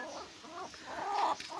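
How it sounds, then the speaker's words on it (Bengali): An Aseel hen gives soft, close clucks in a few low, uneven bursts. "আমার সুন্দরী মাদি কর করতেছে"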